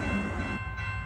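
A K160 passenger train pulls into a Chengdu station with a loud rumble and steady mechanical whine, the tone shifting halfway through as it rolls by nearby.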